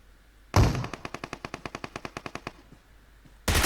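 Automatic gunfire in the mobile game PUBG Mobile, a rapid burst of about fifteen evenly spaced shots lasting roughly two seconds, with a loud blast opening and closing it.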